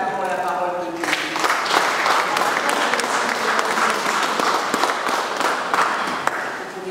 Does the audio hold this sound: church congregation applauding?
yes